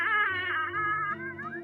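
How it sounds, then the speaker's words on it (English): A pump dispenser squeaks as cream is slowly pushed into a mug, giving a short, wavering, high squeal, close and fairly loud, with a low hum underneath. "it's me slowly pumping cream into my mug"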